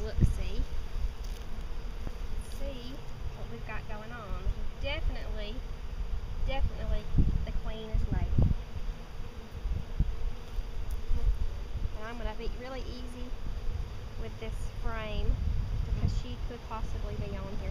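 Many honey bees buzz close by at a hive in a steady, layered drone with individual insects whining past, while someone talks intermittently over the hum.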